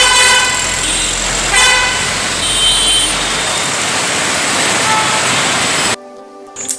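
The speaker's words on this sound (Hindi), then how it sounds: "किस तरह से गुलजार सड़कें थी, किस तरह से ट्रैफिक चल रहा था" Busy city road traffic, with car horns honking in several short and sustained toots over a loud rumble of passing vehicles, which cuts off abruptly near the end.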